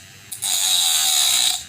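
Homemade grinder built from a printer motor grinding a small metal part for a miniature truck, a high whining scrape that cuts in sharply and holds steady at close range for just over a second.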